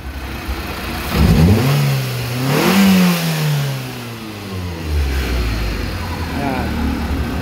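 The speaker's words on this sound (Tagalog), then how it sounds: "Subukan natin i-rev mga guys." A 4G18 car engine with a cylinder losing power revs up sharply, its pitch climbing and falling back, then revs again, loud and close, with a steady idle underneath.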